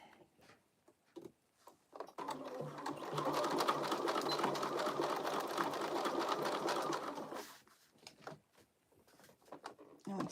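A sewing machine stitches steadily through the thick layered parts of a crossbody bag, a continuous whirring run of several seconds, with short bursts of stitching before and after.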